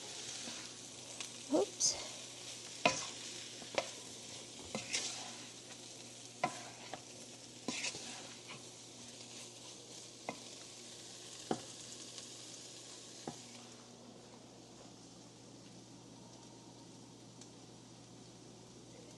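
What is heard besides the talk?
shrimp frying and being stirred in a pan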